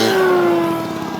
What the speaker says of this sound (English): this is the kind of blazing speeds they're going to be expecting at full throttle on a 6S 5000